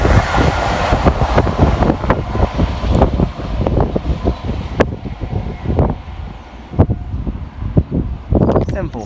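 Greater Anglia passenger train 1P7 from Norwich to London Liverpool Street passing on the Great Eastern Main Line, a loud sustained rumble with repeated rhythmic clacks of wheels over rail joints and wind buffeting the microphone throughout.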